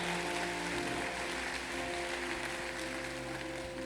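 A church congregation at a Wednesday evening service claps loudly for a few seconds, a steady roar of hand claps over a sustained musical drone.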